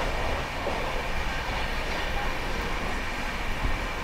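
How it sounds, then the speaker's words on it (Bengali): The 12337 Shantiniketan Express runs at speed between Howrah and Bolpur, heard from inside as a steady loud rumble with wheel clatter and rushing noise, no talking. "এই দেখুন মারাত্মক স্পিডে যাচ্ছে ট্রেনটা"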